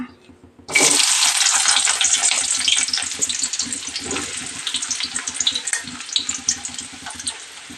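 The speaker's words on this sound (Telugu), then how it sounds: "నూనె అయితే కాగిందండి ఇప్పుడు వచ్చేసి ఉల్లిపాయలు అయితే వేసేస్తాం" Onions hit hot oil for a capsicum fry and burst into a loud, steady sizzle right after a brief quiet start, crackling continuously and close up, with no one talking.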